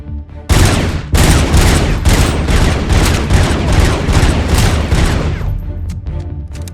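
Sustained, loud gunfire from a shotgun and assault rifle in the Robocop Unfinished video game, a dense burst of rapid shots with sharp onsets that starts abruptly, rattles on for about five seconds, then cuts off into a short tail.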